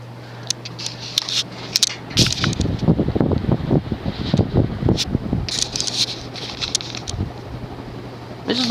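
A circa-1983 Hunter (Robbins & Myers) Comfort Breeze 52-inch ceiling fan runs with a steady low motor hum and airy whoosh. A person talks over it in the middle.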